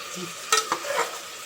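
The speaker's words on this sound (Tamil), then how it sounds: "இஞ்சி பூண்டு பேஸ்ட்டு வந்து போட்டுக்கலாம். இதோடு சேர்த்து நல்லா வதக்கிட்டிங்கன்னா நல்லாயிருக்கும்." Ginger garlic paste sautéing in a pan for biryani, a soft sizzle with two quick scraping stirs of a spatula, close and brief, no voices.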